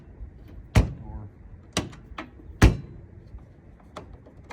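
Sharp clicks and thuds from a Miele T8005 dryer door being shut and latched, with three loud knocks and a few lighter clicks close by in a quiet room.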